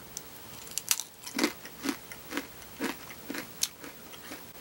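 Crunchy Snack Factory Buffalo Wing Pretzel Crisps are bitten and chewed up close, a sharp snap followed by a steady rhythm of loud crunching chews about twice per second.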